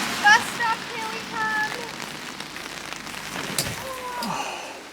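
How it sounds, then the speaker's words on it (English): Heavy rain buckets down along the Camino de Santiago near a bus stop, a dense steady hiss close by, with brief voices and chirps at the start and some passing noise partway through. "But it is absolutely bucketing down."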